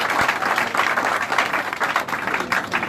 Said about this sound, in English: give the Chief of Staff a round of applause